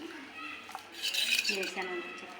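Pickle being mixed by hand with salt and heated groundnut oil in a vessel for a long-keeping Andhra-style maage pachadi, giving soft stirring and scraping with light clinks, faint and close, with occasional voice in the background.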